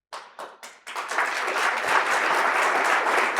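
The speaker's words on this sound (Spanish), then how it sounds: "Aplauso espontáneo al público, esto no estaba guionado." A few separate claps open, then spontaneous audience applause swells into a loud, sustained ovation that carries to the end.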